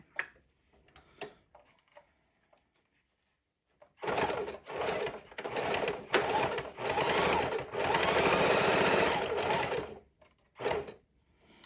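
A sewing machine stitches a fidget quilt in a quiet room, with a few soft clicks before it starts, then a steady, fast whirring run of several seconds that stops, followed by brief clicks.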